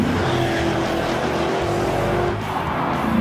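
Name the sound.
SRT car engine, 470 horsepower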